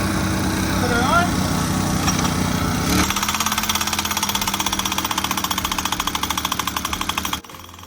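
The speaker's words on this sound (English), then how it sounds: "Take the safety off, hit the go switch, and" A Stakinator gas-powered tent stake driver runs with a loud, rapid hammering engine rattle, revving up at first then settling into a steady pounding beat that cuts off abruptly near the end, with a voice talking over the start.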